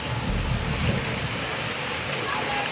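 Rain pours steadily in the evening, a dense, continuous hiss with a low rumbling swell early on, while a faint voice is heard now and then.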